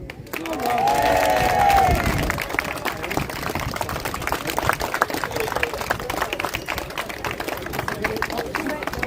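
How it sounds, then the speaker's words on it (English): Crowd at a Parents Against Grooming protest rally in Oldham breaking into loud applause and cheering that swells in the first two seconds and then continues as dense, steady clapping mixed with crowd noise. "he needs a bigger clap than that"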